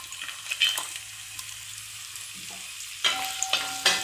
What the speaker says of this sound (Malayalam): തേങ്ങാക്കൊത്ത് നല്ലൊരു ബ്രൗൺ കളറായി നന്നായി ഒന്ന് മൂത്ത് വരണം